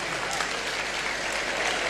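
A crowd claps loudly and steadily to welcome a guest onstage at a live debate event, a dense, continuous burst of applause filling the short moment.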